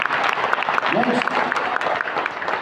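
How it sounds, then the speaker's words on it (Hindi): Applause from an audience at a business plan presentation, steady dense clapping throughout, mixed with some voices in the room. "तालियां का जोरदार होनी चाहिए"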